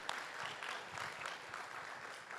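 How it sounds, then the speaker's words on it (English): Audience applause for a panel at a governor's small business summit, a steady wash of clapping from a crowd, fairly faint and distant, with no talk over it. "How about a round of applause for this panel?"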